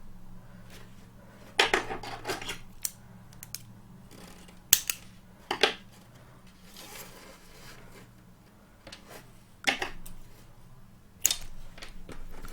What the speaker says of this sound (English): Now we cut rubber bands.